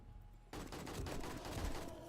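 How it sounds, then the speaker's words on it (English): Quick automatic bursts from an AK assault rifle in the video game 7 Days to Die rattle on continuously for about two seconds, fairly faint and steady, with no voices. "That's with a level 6 assault rifle."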